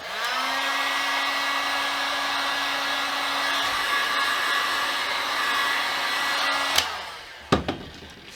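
A heat gun blows steadily and loudly while softening plastic binding on a guitar neck, a continuous whooshing roar that cuts off near the end, followed by a few sharp knocks.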